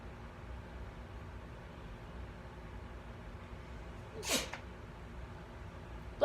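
A single close sneeze bursts out of a quiet room, followed by another brief sharp sound at the very end.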